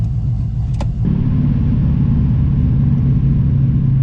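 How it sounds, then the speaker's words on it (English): A BMW E46 with a swapped LS V8 engine cruising in third gear, a loud, steady, deep engine rumble heard close up from inside the car, with a brief higher rattle near the start. "I just pulled out and I'm in third."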